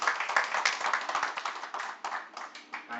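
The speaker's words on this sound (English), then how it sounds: "So let's have a round of applause for all of us." An audience at a town planning workshop gives a round of applause, a moderate patter of individual hand claps with a clear rhythmic texture, heard at some distance and fairly soft.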